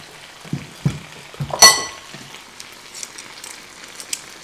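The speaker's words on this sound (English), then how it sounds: "So we're just going to give it a quick stir again." Aubergines being stirred and fried in a pan give soft scraping stirs and a sharp clink of a utensil against the pan, over a faint, intermittent sizzle in a quiet kitchen.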